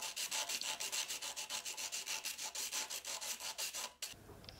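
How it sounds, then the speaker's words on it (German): The cut ends of M6 threaded rods are sanded with quick, rapid back-and-forth abrasive strokes, a dense rhythmic rasping that stops abruptly near the end and leaves a quieter background. "Damit es keinen Ärger von Mama gibt, werden die Schnittkanten selbstverständlich abgeschliffen."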